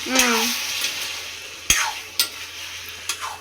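Chicken pieces dropped into a hot pan, a loud sizzle at the start fading to steady frying, with a sharp clank of a utensil and a few scraping stirs following.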